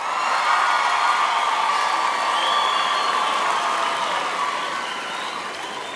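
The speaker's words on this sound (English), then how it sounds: "And give yourself a big round of applause." Sustained applause from a large crowd at a university graduation ceremony fills the hall, steady clapping with a few scattered cheers, slowly easing off toward the end.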